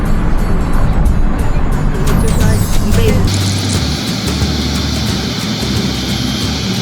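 Bus ride to Tianfu International Airport, with a steady loud rumble of the vehicle's engine and road noise throughout and a brighter hiss joining partway, with no talk.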